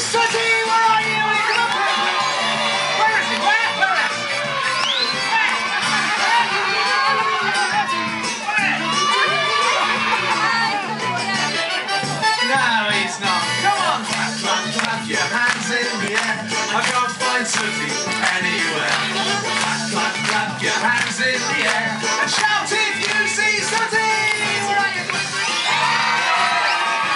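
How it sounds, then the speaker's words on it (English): A young audience of children at a live Sooty Show at Cadbury World shouts and cheers loudly in a sustained crowd roar. A speaking voice and music run beneath the noise for the whole stretch. "And everybody shout for Sooty!"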